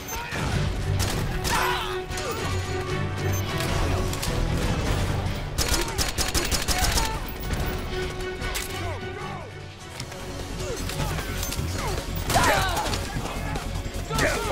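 Gunfire rattles through a Metal Gear Solid 4 match on PS3 in repeated bursts and rapid volleys with crashes and impacts mixed in, nearly continuous over the stretch, with voices talking over the action.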